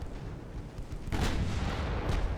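Naval gunfire in a British Long Historical Campaign war game set in the 1910s: a dull rumbling bed with a heavier boom about halfway through and another softer thud near the end, moderately distant.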